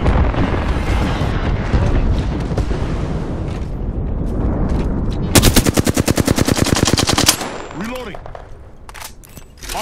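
Gunfire in Apex Legends: sustained heavy automatic fire rattles in a dense stream, then a fast burst of evenly spaced shots rings out loud and close, amid explosive in-game battle noise with voices mixed in.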